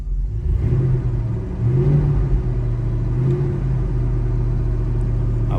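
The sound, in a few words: 6.0 V8 SUV engine exhaust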